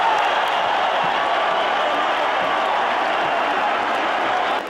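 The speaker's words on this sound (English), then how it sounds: "Both for the fighters deserve a hand of applause" An arena crowd applauds and cheers after a boxing bout between Erik Morales and Marco Antonio Barrera, a dense, loud, continuous wash of clapping and crowd noise with no break.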